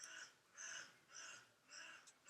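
A crow caws four times in an even rhythm, harsh and fairly faint, as if from some distance, with little else around it.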